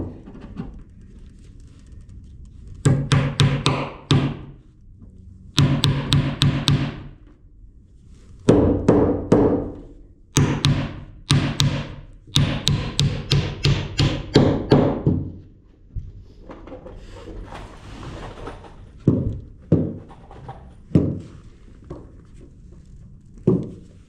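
Nails hammered into floor sheets of a hay loft in an old barn: bursts of rapid, loud hammer blows separated by pauses, with lighter scattered taps toward the end.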